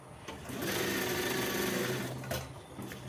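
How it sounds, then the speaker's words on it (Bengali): Sewing machine stitching a nonwoven bag, a steady loud mechanical whir that runs for about two seconds, then slows and stops near the end with no talking. "এই একটা সেলাই পড়তে বাকি আছে"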